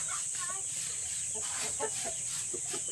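Rhode Island hens cluck softly in a backyard flock kept for breeding, the short scattered clucks sitting under a steady high-pitched background hiss.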